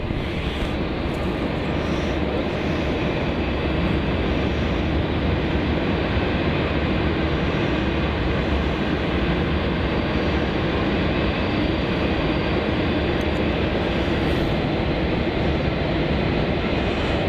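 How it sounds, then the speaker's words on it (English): A Jetstar Airbus A320 airliner rolls out after landing on runway 27 at Melbourne Airport, a loud, broad, steady engine roar and rumble heard continuously from nearby with no talk. "So this Jetstar A320 on your screen there just arrived on runway 27 from the Gold Coast"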